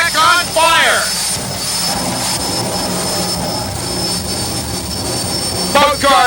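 Jet dragster powered by a Westinghouse J34 jet engine with afterburner, a loud steady roar filling the whole stretch, with a voice talking over it at the start and end.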